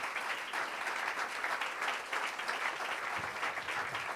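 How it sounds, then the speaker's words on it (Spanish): Church congregation applauding God's faithfulness during a sermon: a steady, dense wash of many hands clapping together, sustained and even throughout, fairly close, with no voice over it. "¿Cuántos aplauden la fidelidad de Dios?"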